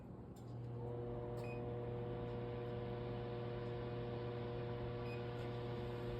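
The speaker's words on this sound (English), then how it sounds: "now we are going to turn on the oven at 500 degrees" A kitchen oven switched on and heated toward 500 degrees Fahrenheit gives a steady, low electrical hum with a faint fan whir, constant and close, no voices.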